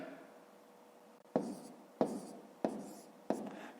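Numbers being written by hand for a fifth-grade multiplication exercise, four short separate pen strokes or taps on paper, close and fairly quiet, with no talking.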